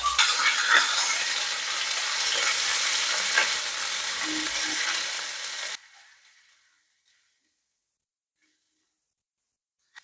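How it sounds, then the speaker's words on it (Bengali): Ginger and garlic paste fry with cumin seeds in oil in a kadai, a loud, dense, steady sizzle that runs for about six seconds and then cuts off into silence. "আদা রসুন ভালোভাবে ভাজা হয়ে গেছে"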